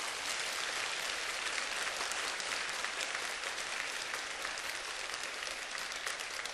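A church congregation claps steadily in a dense, even wash of applause heard from some distance, with no pauses throughout.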